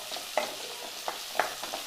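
Soft, steady sizzling of onion sautéing in hot oil, with a few light stirring scrapes.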